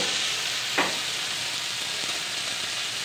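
Bitter gourd (karela) frying in a pan with a finely chopped potato, four green chillies, turmeric and salt, giving a steady, close sizzle with a brief stirring scrape near the start.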